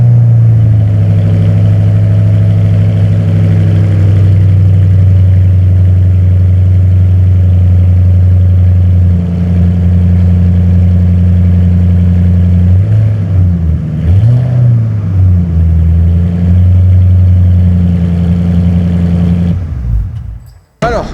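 A passionate owner's 15-year-old car runs loud and close from a cold start, a steady low idle holding for many seconds, then wavering revs rise and fall before the engine cuts off abruptly near the end.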